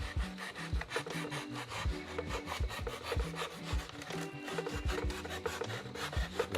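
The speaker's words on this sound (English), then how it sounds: "Yeah, so I'm just beveling this just a little bit." Steady rasping file strokes shaping and beveling the edge of a board piece for an industrial wargaming table, with no voices.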